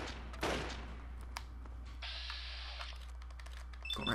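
Gunfire in Fallout 3, a few sharp shots and clicks over a low steady game hum, fairly faint, with a brief high ringing tone partway through.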